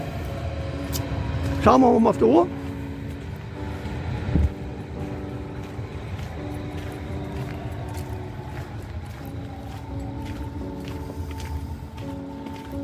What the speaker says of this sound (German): Da fährt die S-Bahn.